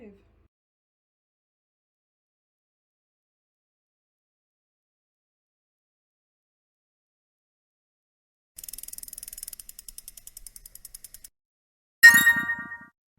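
Dice rolled for a book-reading board game after a long silence: a short rattling clatter, then a sharp close clack as they land and settle.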